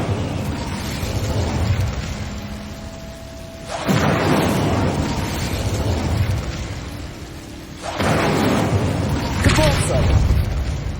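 Incendio fire spells burst in Hogwarts Legacy, a few loud whooshing, crackling blasts that swell and fade, separated by quieter rumbling stretches.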